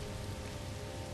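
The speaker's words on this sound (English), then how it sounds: "I think it's just raining acid and it's trying to just totally kill me" Steady hissing downpour of acid rain on a planet in No Man's Sky, a dense, even wash of rainfall with no breaks, moderately faint.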